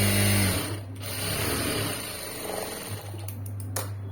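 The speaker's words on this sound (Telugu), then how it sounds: "మళ్ళీ క్లోజ్ చేసేసుకుని ఇంకో స్టిచ్ వేసేయండి." A sewing machine stitching a shape belt in tailoring work. A close, steady mechanical hum is joined by a rapid running stitch, with brief pauses and clicks.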